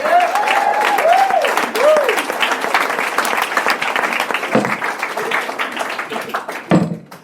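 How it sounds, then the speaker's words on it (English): Lively audience applause at a comedy show in a small East London venue, loud and dense, with cheering whoops early on and a few louder knocks as it gradually thins out. "Give yourselves a round of applause for coming"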